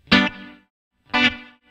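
Two plucked electric guitar notes in the Muscle Shoals style run through spring reverb, tremolo and an echo chamber, each one loud and then fading into a lush, wavering tail with a pause between them.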